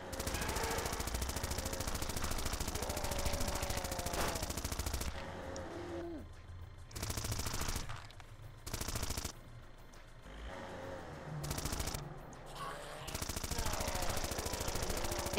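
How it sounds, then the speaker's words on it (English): A giant machine gun fires in Zombie Driver on PC, a rapid, steady rattling stream of shots in long bursts, with brief pauses between volleys. "Run into a giant machine gun."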